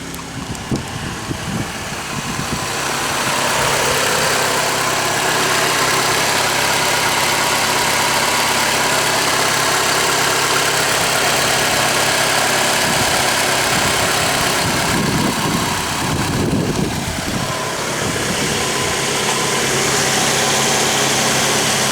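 A 2011 Ford Escape XLT engine starts and settles into a steady, even idle after an oil change, humming at constant loudness with a brief bump of mechanical noise partway through and no talking.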